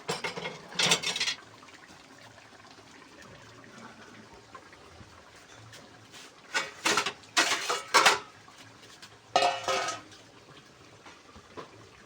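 Koi fish curry cooked with ridge gourd is ladled and poured from a pot, a few short bursts of liquid splashing and scraping metal separated by quiet gaps, close and without speech.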